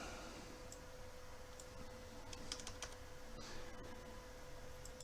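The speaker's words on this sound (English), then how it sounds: "I'm just going to type 12 on a calculator and hit square root" Numbers tapped on a calculator keypad produce faint, light clicking, a few quick keypresses in a short cluster over a quiet background hum.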